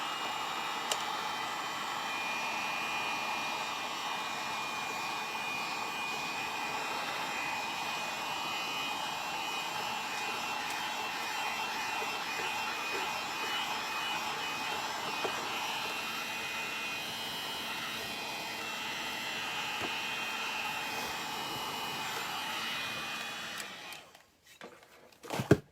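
Heat gun blasting hot air to dry decoupage glue on a chalk-painted floral project, a steady close roaring whoosh that runs unbroken for about 24 seconds, then cuts off abruptly.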